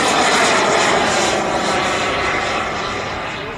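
A model aircraft flies past at an air show, its engine a loud, steady buzzing drone that fades slowly as it moves away, with no talk over it.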